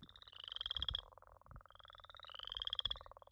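Northern leopard frogs and chorus frogs call together at night in a steady chorus of rising, trilling creaks layered over low, snoring croaks.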